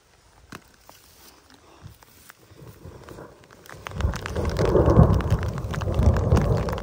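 Rain in a forest during mushroom foraging starts as scattered light drops and thickens into a louder, steady patter about halfway through, likely falling on umbrellas, with no one speaking.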